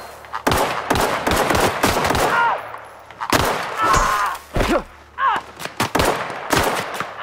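Pistol shots in The Outer Worlds crack out in quick irregular volleys, loud and close, with sharp reports and short pauses between groups of shots.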